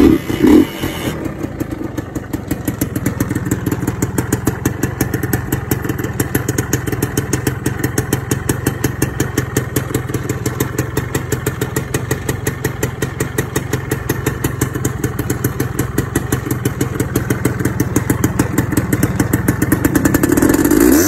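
A 2000 Suzuki Satria motorcycle engine idles steadily and close by, a smooth continuous putter with fine rapid pulsing and a faint clatter, alone with no talk.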